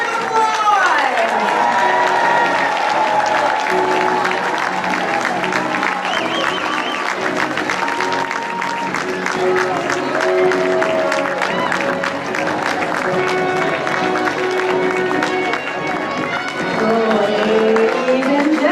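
A large standing crowd at a county swearing-in ceremony applauds and cheers loudly, sustained clapping mixed with whoops, shouts and crowd voices that carries on without pause.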